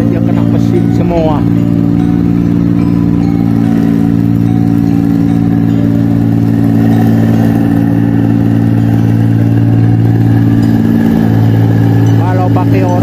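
Rice harvesting machine cutting a paddy field in Malaysia, a loud, steady droning engine hum that runs unbroken throughout with no talk.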